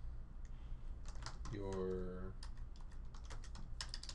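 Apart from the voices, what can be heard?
typing on a computer keyboard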